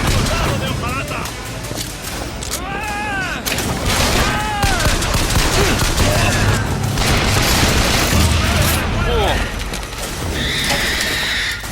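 Rocket explosions and rapid gunfire fill a busy BioShock Infinite firefight, with repeated booms and bursts alongside whooshing effects and voices talking throughout.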